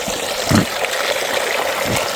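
Water flows steadily through a small homemade Long Tom gold sluice fed by a speed-controlled pump, a continuous close trickling gush with a brief louder splash early on.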